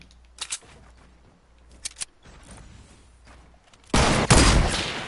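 Sniper shots in Fortnite: a few sharp distant cracks early on, then a loud close burst of gunfire near the end, with little else in between.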